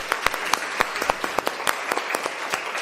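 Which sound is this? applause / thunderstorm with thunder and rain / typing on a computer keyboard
applause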